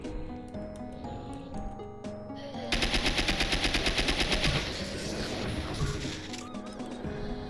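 Rapid-firing pepper grinder gun in a video game, a fast loud burst of regular shots lasting a couple of seconds amid game effects and music.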